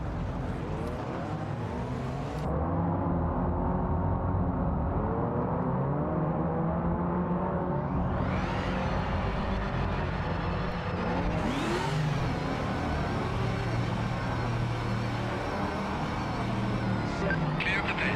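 A race car engine in the Project Motor Racing simulator drones loudly and continuously, with revs climbing and dropping through sharp upshift sweeps, while a voice talks over it.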